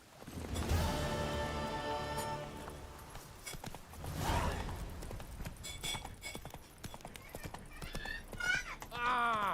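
Roach, a horse in The Witcher 3, clip-clops along with steady hoofbeats and lets out a whinny, while voices talk over the hooves.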